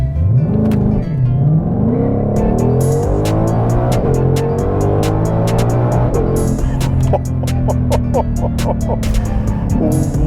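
A 2021 Ford Mustang Shelby GT500 accelerates hard on a freshly paved road, its loud engine rising in pitch through gear changes, heard from inside with a steady roar and some rattling clicks.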